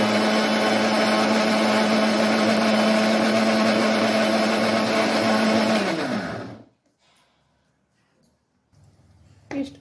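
A grinder blends spice paste for a Bengali masala okra dish, a loud steady whir running without pause for about six seconds, then cutting off abruptly into near silence with a faint rustle at the end.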